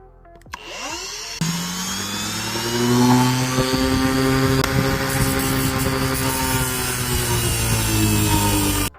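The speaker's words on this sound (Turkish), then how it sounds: "O yüzden şimdi bunu kesmek zorundayım." A power cutting tool spins up with a whine and then cuts steadily and loudly through a seized rear shock absorber top mount on a Hyundai Accent Era, with a continuous harsh grinding tone throughout.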